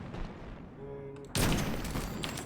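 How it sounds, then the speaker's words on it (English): Sniper rifle gunfire in the Destiny 2 video game: after a quiet stretch with a faint tonal hum, one sharp, loud shot cracks out, and its boom lingers and rolls on to the end. "Now let's go on the sniper."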